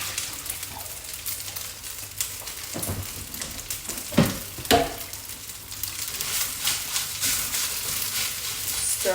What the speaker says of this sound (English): Stirring the rice over it